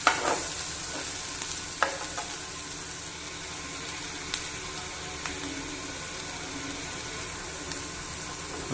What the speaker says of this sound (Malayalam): ഉള്ളി നല്ല രീതിക്ക് ഒന്ന് ഫ്രൈ ആവണം